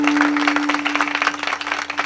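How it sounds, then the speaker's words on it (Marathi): An audience at a devotional kirtan gathering claps loudly for the sound system crew, a dense close burst of applause over a steady tone that tapers slightly toward the end. "जोरात टाळी वाजवा"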